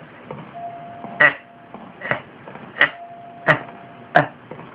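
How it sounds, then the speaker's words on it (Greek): A doorbell chimes in The Grudge (Ju-on) video game on the Wii. Five sharp, bright rings come at roughly even intervals over a faint hum. No one talks. "Το κουδούνι χτυπάει"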